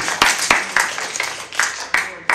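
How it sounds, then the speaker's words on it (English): A church congregation claps after a pastor's sermon prompt, a few loud uneven claps close by, scattered and irregular rather than a sustained ovation. "You can clap."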